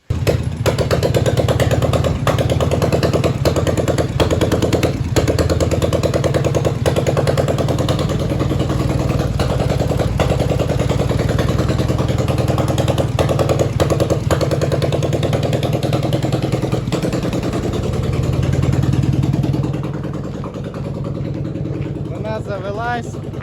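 A Dnepr MT11 motorcycle engine runs steadily and loudly up close on a frosty day, with a low rumbling drone and rapid clattering beats that carry on for about twenty seconds before the sound eases and drops slightly at the end.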